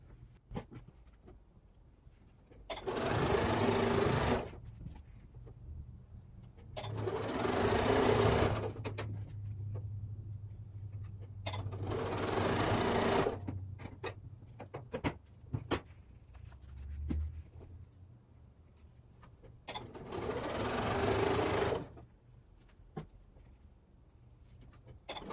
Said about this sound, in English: Now we will sew these into 3 separate rows and then sew the rows together to complete